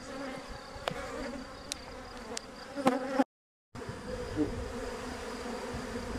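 A small honeybee swarm buzzing on a hive box at an off-grid homestead, a steady close drone with occasional louder passes near the listener, briefly cut out midway.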